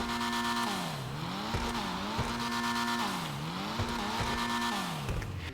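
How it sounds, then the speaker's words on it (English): Annis Euros race car engine in GTA Online revs high and drops repeatedly through gear shifts in a rising-and-falling whine, with tire squeal and skidding mixed in, loud and close with no talk. "let's see how this thing actually sounds"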